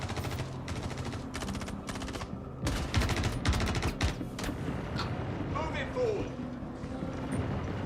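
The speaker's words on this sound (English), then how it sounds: "Turrets are lighting something up." Ship turrets fire in the space game Star Citizen, rapid bursts of automatic gunfire in repeated volleys with loud sharp shots, fading into a busier mix of background game noise while a person talks over it.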